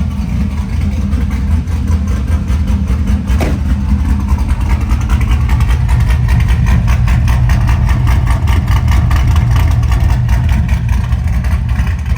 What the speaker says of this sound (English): Let's go give a listen to this awesome cam sound coming out of the tailpipe.